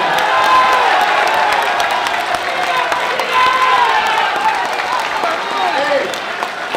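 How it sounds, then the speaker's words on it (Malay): A packed political crowd at PWTC gives the party president thunderous applause, a loud, sustained roar of clapping mixed with cheers and shouts that holds steady throughout. "kita patut berikan tepukan yang gemuruh atas keberanian Presiden kita"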